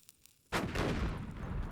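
A loud explosion blasts through ore in a mining video game, a sudden heavy boom after a quiet moment, followed by a rumbling crackle of debris lasting just over a second.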